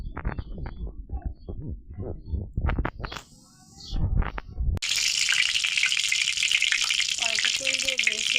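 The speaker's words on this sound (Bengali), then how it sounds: "কড়াইতে তেল দিয়ে দিয়েছি আর জালটা একটু বাড়িয়ে দিয়েছি" Oil heating in a wok for frying tuna fish, on a raised flame: voices and kitchen sounds come first, then a loud, steady, close-up sizzle that holds to the end.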